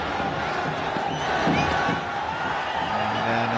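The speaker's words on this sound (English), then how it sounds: "Just the crowd chanting Comilla." A cricket crowd at the BPL final chants for Comilla, a broad, continuous roar of many voices with rhythmic swells, heard from a distance and filling the whole stretch.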